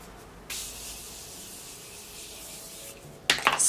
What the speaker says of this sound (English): I'm going to take my Morphe setting spray to just go over my face and refresh my face